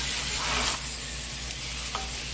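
Korean yugwa, glutinous rice crackers, fry in hot oil with a dense, continuous sizzle and crackle, close and steady, as they are stirred, with no one speaking.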